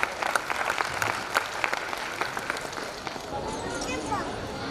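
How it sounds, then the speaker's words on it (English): An audience of parents at a school annual social gathering applauds steadily, dense clapping throughout, fairly loud and close, with a bit of voice mixed in. "Parents, please give a big round of applause."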